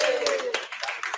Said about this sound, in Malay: Yang ada tepukan ya.